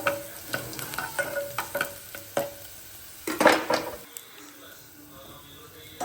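Curry leaves hit hot oil for a dal tempering and crackle with a loud burst of sizzling. Stirring scrapes and utensil clinks come before it, and a voice talks nearby.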